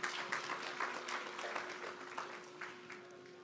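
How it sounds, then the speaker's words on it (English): Applause at a Christmas in July gathering after a guest is introduced, a low, steady patter of clapping that sounds somewhat distant and thin, with scattered sharper claps and a steady hum underneath. "I think he deserves a round of applause"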